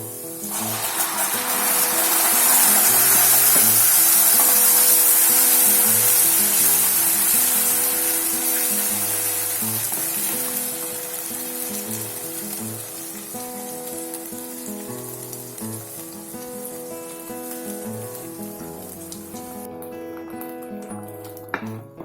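Onions and ground coriander paste sauté in oil in a home kitchen pan, a steady close sizzle and crackle that is loudest early on and then settles to a softer, even frying hiss over background music.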